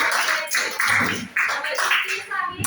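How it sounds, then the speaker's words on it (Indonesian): A classroom of high school students briefly applauds their classmates, the clapping coming in short uneven bursts with a teacher's voice talking across and between them. "kasih tepuk tangan buat teman-teman"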